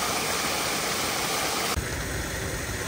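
A waterfall in Georgia, heard as a steady, dense, close roar of rushing water that fills the whole clip with an even, unbroken wash.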